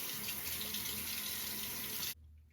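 Tap water runs steadily and loudly over a shaving brush at a sink, a dense rushing hiss that cuts off sharply near the end and leaves only a faint room hum.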